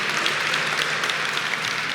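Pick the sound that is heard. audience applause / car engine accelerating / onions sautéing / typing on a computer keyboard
audience applause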